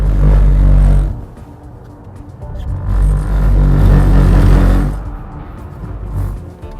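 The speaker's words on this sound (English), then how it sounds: "That's an electric car in a skid." A Mercedes SLS Electric Drive slides through a skid on a wet track, its loud electric motor whine and tyre roar swelling and easing in waves, close by, with no voices.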